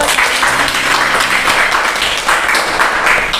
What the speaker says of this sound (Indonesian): Ya, tepuk tangan dong teman-teman.